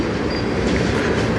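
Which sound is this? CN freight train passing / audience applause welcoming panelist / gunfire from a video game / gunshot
CN freight train passing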